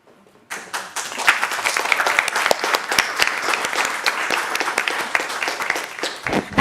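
Audience at a women's empowerment panel applauding the panelists and moderator: a sudden burst of clapping after near silence, dense and sustained, fairly close and loud, with sharp individual claps standing out.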